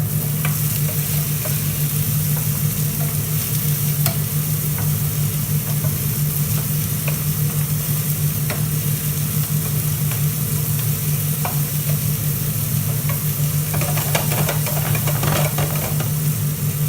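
Meat frying in a pan for cheesy kimchi fried rice, a steady close sizzle with occasional stirring scrapes, loud and continuous throughout with no talking.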